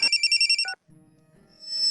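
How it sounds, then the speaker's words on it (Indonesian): A phone ringtone plays a quick run of bright electronic beeps, loud and close, then cuts off, followed by faint room noise. "Bos, telepon."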